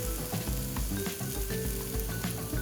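Minced garlic hitting a pan of softened vegetables, a steady close sizzle with spattering pops and stirring noise.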